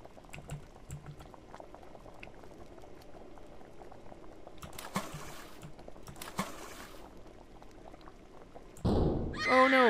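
Water fills a lunch pot in The Sand Man video game, a low, steady liquid rumble that rises into a louder, gushing pour near the end, with no talking over it.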